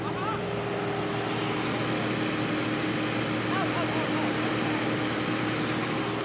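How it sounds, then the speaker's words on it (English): A 2018 Dodge Charger SXT Plus engine idles steadily, recorded from under the engine bay, a constant low mechanical rumble with no change in pace throughout. "put the microphone under the engine bay so you can sort of hear it run"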